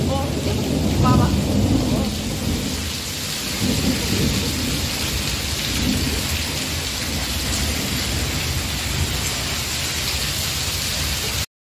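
The first monsoon rain pours down hard, a dense, loud hiss of heavy rainfall with deep rolling thunder rumbling underneath, strongest early on, then a steady downpour continuing until an abrupt stop.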